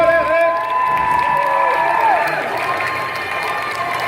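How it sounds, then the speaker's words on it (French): A crowd at a Buffy fan panel at a Paris manga and sci-fi convention claps with hands raised and cheers loudly: a dense roar of applause mixed with shrill whoops and shouts, sustained and close, with voices calling out over it. "Vous pouvez applaudir les mains en l'air."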